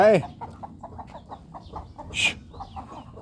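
A hen clucks in a steady repeated rhythm among her chicks, with one louder squawk near the end, all close by.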